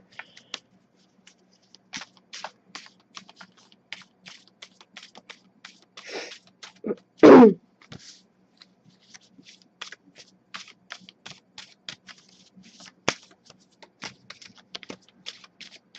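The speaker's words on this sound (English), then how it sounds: "This deck is also way bigger than my hands, so I have a bit of an issue shuffling this one" A large, oversized tarot deck being shuffled by hand, making sparse, close clicks and card taps with a louder riffle burst near the middle, in a quiet room with no talking.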